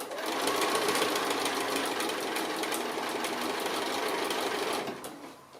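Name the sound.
sewing machine stitching a strip collection envelope pouch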